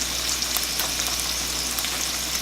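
Canned asparagus frying in a pan gives a steady, close sizzle with crackling pops spread through the whole stretch, and no one speaks.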